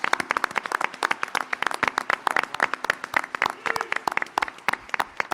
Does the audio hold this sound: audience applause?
yes